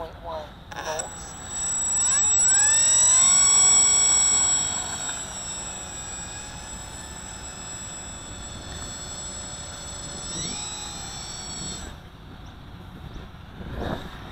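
A Durafly P-51D Old Crow RC model plane's electric motor throttles up on grass, a rising whine that holds loud for a few seconds, then settles into a steadier hum with small pitch shifts while a person talks.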